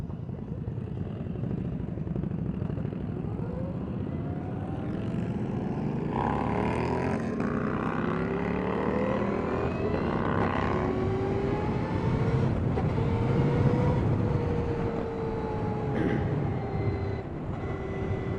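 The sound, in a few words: Victory Empulse TT electric motorcycle riding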